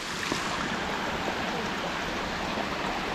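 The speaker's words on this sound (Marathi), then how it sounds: "ओढा आहे ना, पावसाचं पाणी ना पूर्ण." Rainwater rushes along a small stream in the Konkan countryside, a continuous broadband hiss and gurgle, steady and fairly faint, with no talking.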